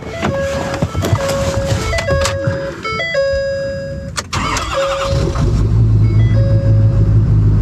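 A small water pump engine turns over with chiming warning tones beeping above it, then catches and settles into a loud, steady running drone up close.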